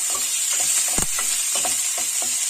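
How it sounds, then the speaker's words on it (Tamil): Chopped onion sautés in a hot pan for an egg bread upma, giving a steady close sizzle with repeated soft scraping stirs throughout. "இதை நல்லா வதக்கி கொடுத்துக்கலாம்"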